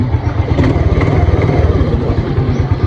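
A 2023 motorcycle engine runs steadily close by, a low, even mechanical rumble with a faint ticking texture and no clear revving throughout.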